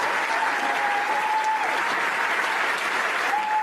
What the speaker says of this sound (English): Let me clap. I gotta clap too, man.